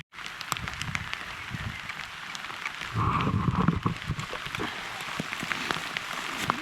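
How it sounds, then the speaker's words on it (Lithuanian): Heavy rain pours down outdoors during a riverside barbecue trip by motorcycle, a steady dense hiss of drops drumming on surfaces that swells louder partway through, with no talking. "Ir žiūrėkit, kaip lyti pradėjo."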